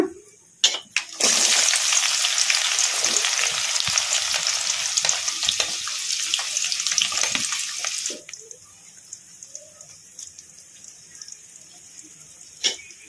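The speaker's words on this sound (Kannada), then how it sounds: "ಉಳ್ಳಾಗಡ್ಡೆ ಒಂದು ಸ್ವಲ್ಪ ಫ್ರೈ ಆಗೋವರೆಗೂ ಫ್ರೈ ಮಾಡ್ಕೊಂಬಿಡೋಣ" Onion, green chilies and curry leaves hit hot oil in a pan with a loud, steady sizzle and stirring scrapes that drop to a faint hiss halfway through, with a few clinks after.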